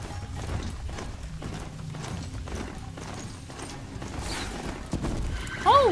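A horse in the video game Horizon Zero Dawn: rhythmic galloping hoofbeats clatter steadily, with a short, sharp neigh right at the end.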